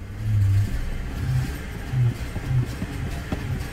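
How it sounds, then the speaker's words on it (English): A Lincoln Town Car with a 4.6 liter V8 running rough, idling unevenly with a low throbbing rumble and several short revs that bog down instead of climbing, close and loud, no voices. "I give it the gas and it bogs down."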